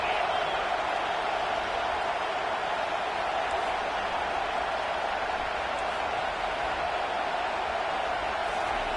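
A stadium crowd in the NCAA 25 football video game roars as a steady, dense wash of cheering and noise, loud and unbroken throughout without distinct individual voices.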